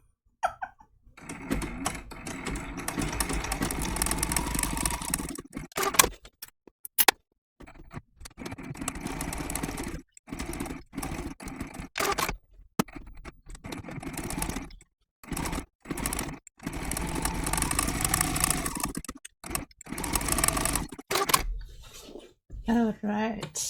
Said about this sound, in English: I will stitch from here over there and break the thread, pick back up over here and continue all the way over like that.